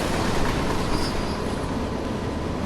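A long freight train rolls past in Train Sim World beside a DB BR 155 electric locomotive, a loud steady broadband roar of wagons and wheels on rails with a faint squeal, no speech.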